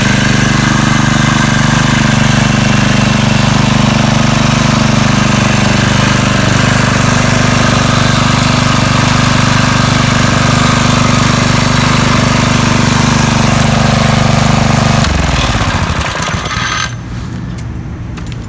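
A McLane Model 801-3RP lawn edger's small petrol engine runs loud and steady close by, then drops in pitch and winds down near the end.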